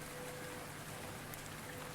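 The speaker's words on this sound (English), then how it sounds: "soft rain sounds, so hopefully you can hear them better" Soft, steady rain pattering in an ASMR sleep setting, a quiet, even hiss with light scattered droplets and no voices throughout.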